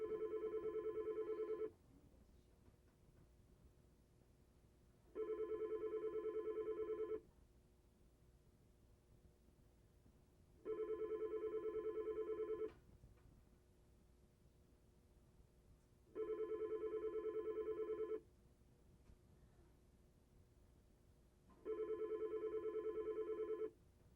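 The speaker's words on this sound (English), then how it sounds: "Oh, there's a phone call coming in." A telephone rings with an incoming call, five evenly spaced long ring tones separated by gaps of several seconds, moderately loud over a faint hiss, with no talking.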